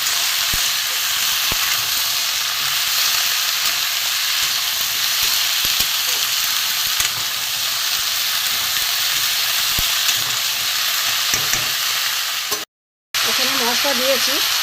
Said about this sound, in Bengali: আমার পুঁই শাক ভালো করে কষিয়ে নেবো।